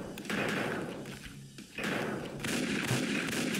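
Gunfire in a pixel-art shooter game: dense, continuous bursts of shots and thuds, close and loud, with a brief lull in the middle before heavy firing resumes.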